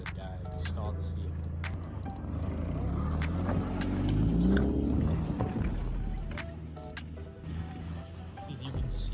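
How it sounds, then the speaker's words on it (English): A Honda Civic engine revs hard toward its rev limiter while drifting in a snowy blizzard: the rising, strained engine drone swells to a peak mid-clip, then falls back, close by, with voices mixed in. "Maybe I rev limited it a little heavy."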